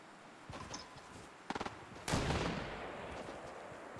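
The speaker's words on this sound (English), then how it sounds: "They're still shooting at me." Gunfire from other players in a video game: a lone shot, a quick burst of four rapid cracks, then a louder blast trailing into a rough rumble, all fairly distant and with no talking.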